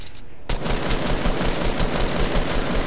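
Rapid gunfire from a video game, a dense sustained burst of shots starting abruptly after a brief quiet moment and continuing loud and unbroken to the end.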